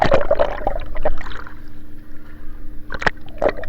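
A fishing boat bobs on the water at sea off Jaffna, with faint wind and low engine hum behind soft splashes and a few brief knocks near the start and end.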